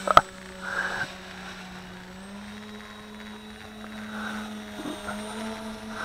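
A WLToys V383 quadcopter drone hovers in flight, its propellers giving a steady, close buzzing whine with a low hum underneath and a few faint knocks.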